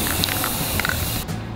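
Primer paint hisses from an aerosol spray can in a steady, close, loud burst lasting over a second, with faint rattling clicks mixed in, then cutting off abruptly near the end.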